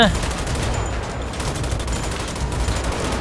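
Police gunfire in the video game GTA V, a dense continuous barrage of shots rattling loudly throughout with no clear pauses, with a voice faintly present underneath.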